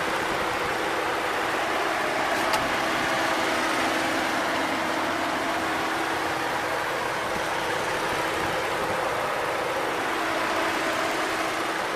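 A 2012 Ford Mustang V6 Premium with the 3.7 liter V6 idles steadily after start-up, a smooth, even engine drone with exhaust note that holds without change throughout and no voices.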